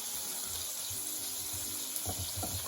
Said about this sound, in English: it's important with spring onions that you always give them a good wash, because they do get a lot of earth and mud in them